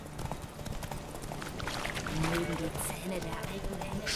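Roach, Geralt's horse in The Witcher 3: Wild Hunt, gallops during a race, with rapid rhythmic hoofbeats running continuously under game sounds while someone talks over it.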